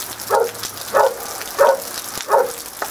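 A dog barks about four times at a steady pace outdoors in the rain, close and fairly loud over a constant wash of rainfall.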